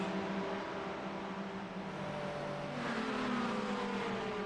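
GT3 race cars at the Spa circuit, engines droning steadily at a distance with a rising pitch toward the end as cars come through a corner, continuous for several seconds with no talk.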